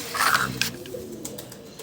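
Pet doves in a cage cooing, soft low calls close by, with a few brief clatters and scrapes from cage cleaning mixed in.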